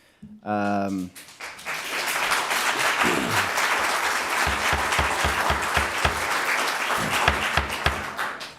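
An audience at a commission meeting breaks into sustained applause that lasts several seconds, with a voice speaking briefly at the start and intermittent talking over the clapping.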